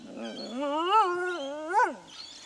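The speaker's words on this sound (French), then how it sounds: "À la place, ils hurlent ou gémissent." Dingo whimpering close by, a wavering, moaning whine that rises and falls twice in pitch over a couple of seconds, heard alone.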